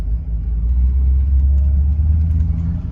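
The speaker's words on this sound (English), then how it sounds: "let me show you how it drives" A 1964 Cadillac engine rumbles steadily at low pitch as the car pulls away, a smooth continuous drone with no voices.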